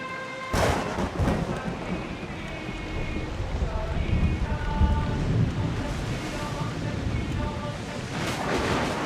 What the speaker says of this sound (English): That storm looks nasty.